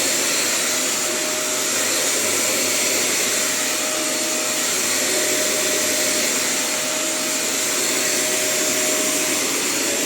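A vacuum cleaner runs while floors are cleaned in a village home, giving a loud, steady whirring drone with a thin high whine that continues unbroken for the whole stretch, with no talking.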